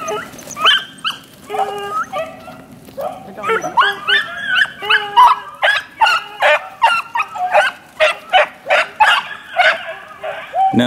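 Bluetick hound pups and a female bluetick bay and yelp in rapid bursts while running a rabbit in the wild, the chorus growing denser and louder after a few seconds, with someone talking quietly underneath.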